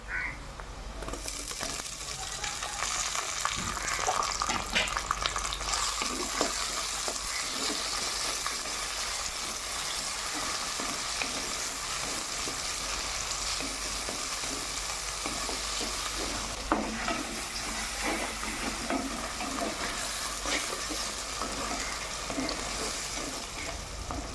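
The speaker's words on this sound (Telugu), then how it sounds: "ఇప్పుడు టమాటా ముక్కలుగా వేస్తున్నా" Tomato pieces frying with softened onions in a pan, making a continuous close sizzle for a long stretch, with intermittent scraping stirs and a few louder clatters of the spoon against the pan, no talk.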